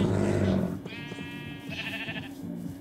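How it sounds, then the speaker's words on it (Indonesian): Sheep bleating in Minecraft, a couple of nasal wavering bleats close by over low background rumble and game noise. "Dia nggak suka domba."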